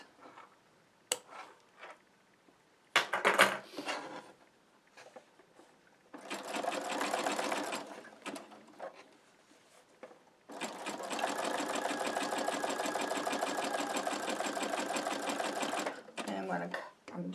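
A sewing machine stitches an in-the-hoop embroidered postcard in two loud sustained runs, a shorter burst and then a longer one, with brief clicks and quieter handling between them.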